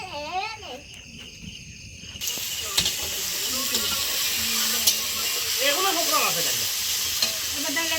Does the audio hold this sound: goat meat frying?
yes